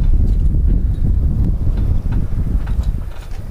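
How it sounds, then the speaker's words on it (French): Strong wind at sea off the tip of La Palma, around 20-25 knots, roars steadily with heavy low rumbling gusts and buffeting, a continuous loud blustery noise with no voices. "la vitesse du vent est montée à 20-25 nœuds"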